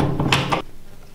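A locked door is tried, giving a short burst of rattling thuds and clunks from the handle and frame, close and fairly loud, then quiet.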